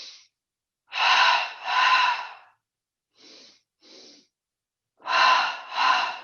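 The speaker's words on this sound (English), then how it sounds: "We take 2 breaths in through the nose and 2 exhales out through the mouth" Paired breaths, two quick inhales through the nose followed by two exhales out the mouth, repeated with a pause between sets. The breathing is soft, close and even, and no one talks.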